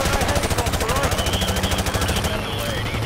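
Rapid automatic gunfire in the shooter Call of Duty: Modern Warfare Remastered, a loud, steady rhythmic stream of shots that thins out near the end, with a voice speaking over it.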